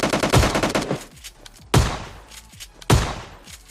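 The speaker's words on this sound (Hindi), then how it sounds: "मैं इस पंप वाले शॉटगन से एक बंदों को निपटाता हूँ जो कि बॉट है" A pump shotgun fires in PUBG Lite: a loud close burst of rapid blasts, then two more single heavy booms, each with a short fading tail.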